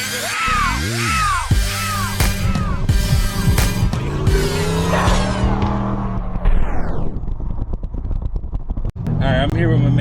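A Ford Mustang SN95 with a 2-valve V8 and 4.10 gears drives off, its engine loud and close, revving up and rising in pitch through gears while a person talks over it.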